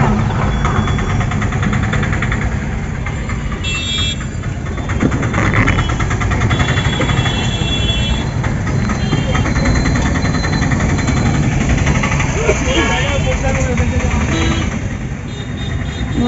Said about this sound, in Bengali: প্রচন্ড জ্যাম হয়, জ্যামটা একটু দেখো